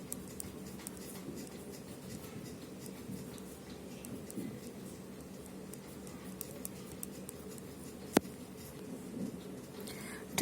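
A pen writes a feature name on a physical map of North America, producing faint, soft scratching strokes with small irregular ticks and one sharp tap near the end, quiet and close with no speech.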